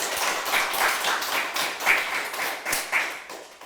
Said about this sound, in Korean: 큰 격려의 박수를 부탁드리겠습니다